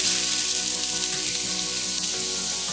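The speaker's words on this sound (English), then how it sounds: "Add the diced onions and green pepper, stirring until covered with the butter" Diced onions and green pepper fry in butter in a hot 12-inch oven-safe pan. The pan gives a dense, steady sizzle that stays loud and close throughout, with no voices.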